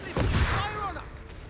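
MG 42 machine gun fire in Company of Heroes 3, a loud burst of rapid shots in the first half-second that trails into a fading echo, with a voice talking over it.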